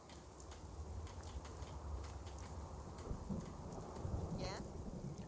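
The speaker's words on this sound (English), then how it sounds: "Be a rainy end to this" Steady rain with rumbling thunder fills the outdoor world of the video game Fallout 4, a continuous soft downpour with a low roll of thunder underneath.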